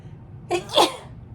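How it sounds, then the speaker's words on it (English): A single sharp sneeze close to the microphone, a quick inhaled catch followed by the forceful burst, in a quiet room. "sneeze."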